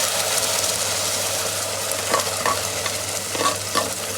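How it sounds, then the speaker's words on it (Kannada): Ground masala frying in oil over chopped onions for a Hassan-style sambar, a loud, continuous close sizzle with occasional scraping stirs and no talking. "ಮಸಾಲ ಹಸಿ ವಾಸನೆ ಹೋಗೋ ತನಕ ಚೆನ್ನಾಗಿ ಫ್ರೈ ಮಾಡ್ಕೊಳ್ಳೋಣ ಆಯಿಲಲ್ಲೇ."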